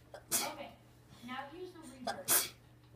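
A single sharp human sneeze bursts out nearby, followed by a second sneeze about two seconds later, with quiet talking between them.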